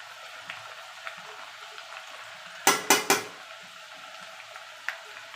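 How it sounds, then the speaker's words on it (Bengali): Lentils treated with baking soda go into hot oil from a slotted ladle to make dal chanachur. A quiet bubbling fry is broken by three quick, loud metallic clanks, then a single later tap. "এইভাবে একটা ঝাঁঝরি হাতায় করে ডালটা ছাড়বেন"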